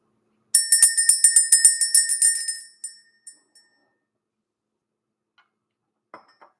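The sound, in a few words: bell being rung to clear energy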